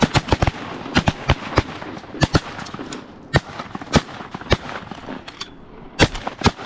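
Shotguns fire at geese during a Pennsylvania goose hunt, sending rapid, irregular volleys of sharp, loud blasts that overlap in quick bursts across several seconds outdoors.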